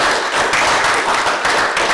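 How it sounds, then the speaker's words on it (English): A city council meeting audience in Waynesville, Missouri gives a sustained round of applause, dense steady clapping filling the room for about two seconds with no break. "give them another round of applause"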